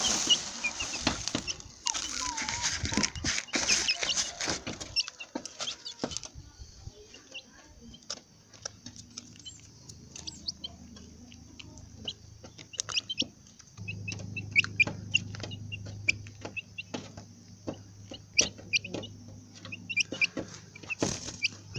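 Chickens cluck and squawk while being fed in the morning, busy close calls and pecking taps that are loud at first and then more scattered, with a low steady hum entering later.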